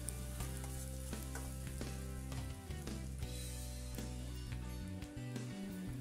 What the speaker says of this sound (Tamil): வெங்காயம் வந்து நல்லா பொன்னிறம் ஆற வரைக்கும் வந்து நல்லா வதக்கி எடுத்துக்கணும்